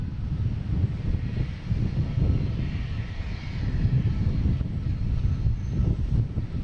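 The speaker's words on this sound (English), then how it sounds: "Now we got Copa Airlines heading to Panama City. Taking off on 4 right, 737, MAX 9." A Copa Airlines Boeing 737 MAX 9 takes off from runway 4 right at Boston Logan, a loud, steady jet roar with deep rumble that holds strong and continuous throughout.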